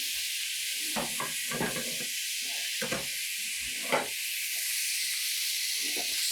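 Beef sizzling in a hot, fairly dry pan for Philly cheesesteak, a constant bright hiss with intermittent crackles and sputters, steady and close, no talking.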